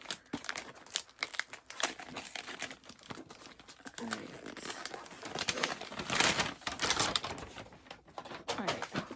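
Birthday wrapping paper crinkles and tears close up as a book is unwrapped, a busy run of rustling and ripping bursts that grows louder partway through.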